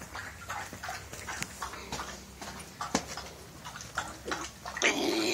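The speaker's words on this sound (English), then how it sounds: "Them steroids make him drink a lot." A dog on steroids lapping water from a bowl in repeated wet, irregular splashes, close and fairly faint, with a louder rushing noise near the end.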